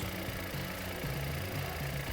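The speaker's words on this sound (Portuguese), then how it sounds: "Vamos partir então o carro, partida por favor aí, para ver os resultados." A Volkswagen up! TSI small car engine runs steadily at a low, even hum, fairly quiet with a faint rhythmic pulse and no talking.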